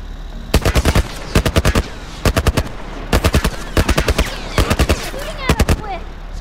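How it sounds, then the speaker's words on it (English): A military turret fires in The Last of Us, loud and close. Several quick bursts of machine gun fire, each a rapid run of sharp cracks, come one after another with short gaps between them. "Some kind of military turret."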